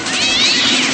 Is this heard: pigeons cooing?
no